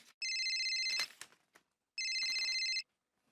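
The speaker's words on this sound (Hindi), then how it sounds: "मैं जेठा को फोन करता हूँ।" A telephone rings in two loud electronic bursts of about a second each, separated by a short pause, with faint background shuffling between them.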